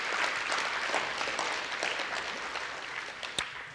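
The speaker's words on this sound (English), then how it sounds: "We give her a round of applause." Audience applause at a graduation ceremony for Indian Education graduates in 2019, fairly faint and steady clapping from a crowd heard at a distance, with one sharper clap near the end.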